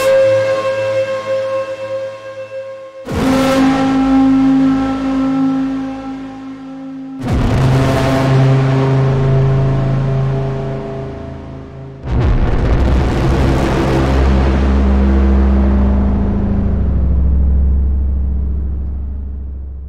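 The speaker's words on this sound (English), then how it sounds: "So especially at a lower pitch, we get this really rumbly, resonant tremolo effect, kind of." Synthesized metallic friction tones from the Vital synth, played as three sustained notes at successively lower pitches, each a loud, rumbling, resonant drone with a wobbling tremolo that swells and slowly fades.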